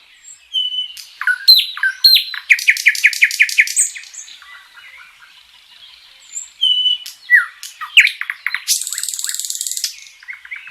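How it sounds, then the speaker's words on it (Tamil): Small marsh prinia and small grass prinia sing at dawn, giving clear, close chirping phrases and rapid repeated trills that come in bursts, with a buzzy sustained trill near the end and no voices. "சிறிய சதுப்பு நில கதிர்குருவி மட்டும் உற்சாகமாக முன்னரே பாட ஆரம்பிக்கிறது"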